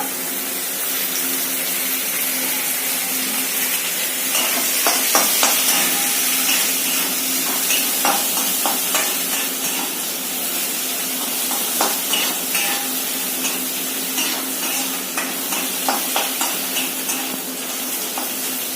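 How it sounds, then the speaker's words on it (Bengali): Onions fry in oil in a pan for a shumki fish and brinjal dish, a steady close sizzle with repeated scraping stirs and light clinks throughout, no talk. "পেঁয়াজগুলো আমার ভাজা হয়ে গেছে"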